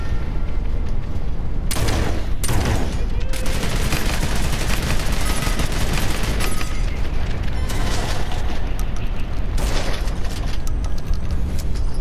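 Dense, loud Realm Royale video game gunfire, continuous rapid shots and booming impacts filling the whole stretch without speech.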